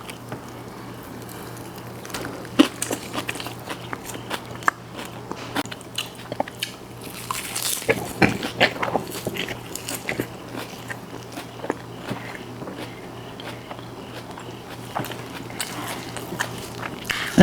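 Close, quiet crunching bites and wet chewing of Haitian fish with plantain, scattered irregular clicks and mouth sounds across the whole stretch, with a low steady hum underneath and no speech.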